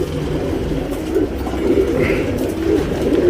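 Tournament racing pigeons coo steadily and up close, their low, throaty calls overlapping in a continuous murmur with no talking.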